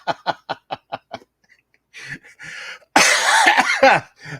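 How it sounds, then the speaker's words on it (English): A run of quick, rhythmic coughs that turn into a burst of breathy laughter, close and fairly loud. "a laugh cough"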